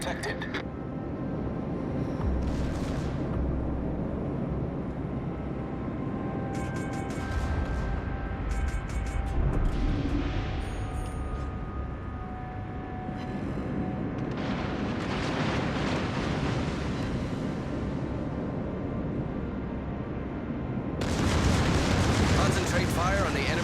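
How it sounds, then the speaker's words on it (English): Naval guns fire on an enemy warship in a video game. Heavy booming bursts and rumbling blasts come in several waves over a continuous battle din, ending with a loud, sharp volley. "Concentrate fire on the enemy warship."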